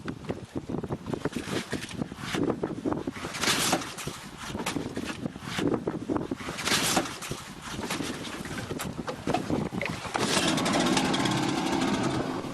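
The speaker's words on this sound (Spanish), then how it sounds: "Arranca el motor a fuerza de Mohamed" A small boat's outboard motor hand-started on open water, sputtering into a rough, uneven drone with wind buffeting the microphone and no voices.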